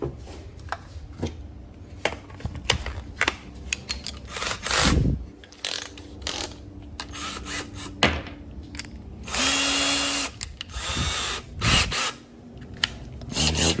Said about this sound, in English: We'll go pop a battery in the drill